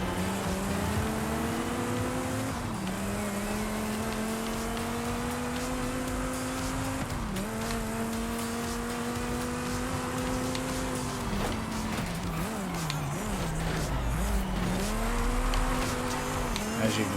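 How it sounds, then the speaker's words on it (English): A Dodge Viper performs a burnout at the start of a race in Forza Horizon 5 with traction control off, its engine revving loudly and sustained while the tires squeal, the pitch rising and falling several times. "Big burnout to start the race."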